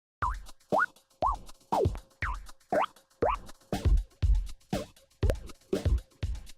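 Punchy drum hits in a loop through the Corpus resonator audio effect, each followed by a springy, pitch-bending resonant ring that gives the beat a boingy, metallic tail.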